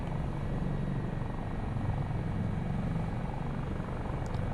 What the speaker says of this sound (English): Engine noise comes up a little bit.